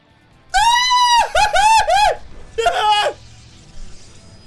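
A voice imitates a terrified scream at a movie theater scare: three loud, close, high-pitched shrieks in quick succession, the last one shorter, with quiet room tone between them.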